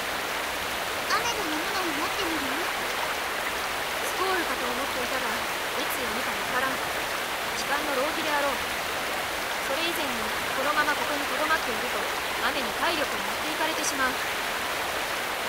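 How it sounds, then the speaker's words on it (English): Heavy, steady rain in the video game Muv-Luv Unlimited hisses loudly throughout, with a constant wash of water noise and faint tonal chirps underneath. "This rain is very loud."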